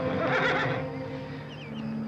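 A horse whinnies loudly and close by in an old-West ranch setting, a bright, quavering neigh that peaks in the first second and then tails off into quieter, breathy horse sounds. No one speaks.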